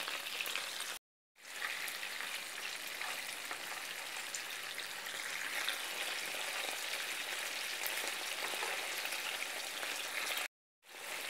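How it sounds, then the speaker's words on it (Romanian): Traditional Swedish meatballs fry over medium heat in a pan, giving a steady close crackling sizzle that runs continuously without talk, broken by two brief silent gaps. "Prăjim la foc mediu, nu la foc mare."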